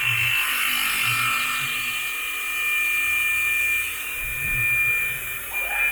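A Centroid Acorn-controlled CNC mill makes a finishing pass along a part wall, giving a steady high-pitched spindle whine with continuous cutting hiss throughout, close and fairly loud.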